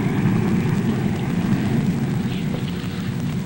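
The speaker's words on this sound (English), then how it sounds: "He's heading his F-86E down the runway now." An F-86E jet fighter taking off down the runway: a steady, loud engine roar that holds constant throughout, no talk.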